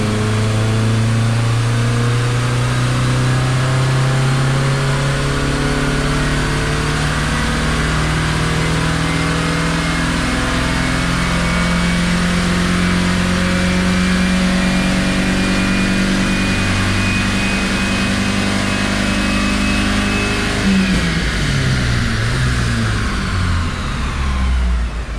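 A 1986 Plymouth Voyager with a 2.2 liter engine pulls hard in fourth gear on a chassis dyno, its drone climbing steadily in pitch for about twenty seconds before the revs drop off; loud, close and continuous with no talking.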